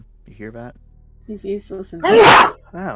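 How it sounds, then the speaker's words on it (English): A single loud, explosive sneeze bursts out close by in the middle of casual conversation, with people talking before and after it. "A great and powerful sneeze."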